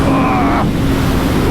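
A 2022 Suzuki Hayabusa at speed roars under heavy wind rush, its engine note rising briefly and then dissolving into a loud, steady wall of wind noise.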